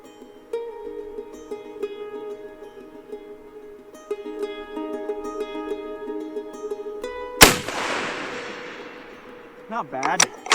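A single loud rifle shot cracks sharply from a rifle rested in a support sling, ringing out and decaying, with music playing underneath and brief talk nearby.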